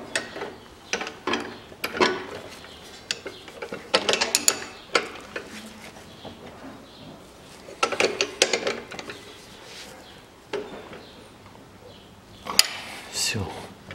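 A wrench turns a nut on a Viking VH 540 cultivator, producing repeated bursts of metallic ratcheting clicks and clanks in uneven clusters, close by, with some faint talk around them.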